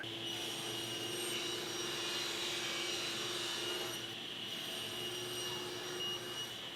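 Steady whine of a power saw ripping 5/4 cherry boards to rough width in a woodshop, a sustained tonal drone with a brief dip partway through, moderately distant and unbroken, with no voices.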